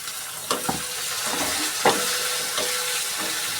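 Finely chopped tomatoes go into golden-brown fried onions with asafoetida, producing a continuous close sizzle of frying with a few sharp scraping stirs scattered throughout.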